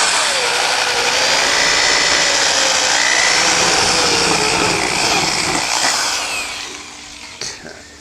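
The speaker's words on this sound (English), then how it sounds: "So I'm going to drill the holes from the face side." A power drill whirs loudly and steadily as it bores holes through laminate from the face side, then winds down and fades near the end.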